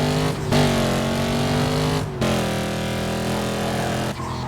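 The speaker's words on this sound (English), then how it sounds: "the Bugatti sounds mighty, but it's actually not that fast" In Need for Speed Carbon, a Bugatti's engine roars loud and steady, holding a high revving drone with two brief breaks like gear shifts.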